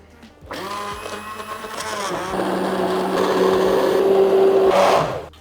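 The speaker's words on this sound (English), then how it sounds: "you can take out your blender and blend it" A blender whirs steadily blending potato leek soup, its motor pitch shifting slightly as it runs, loud and close for several seconds before cutting off.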